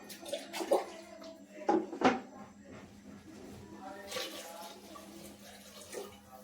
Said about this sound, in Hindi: तो आप डालोगे 7 ग्लास पानी।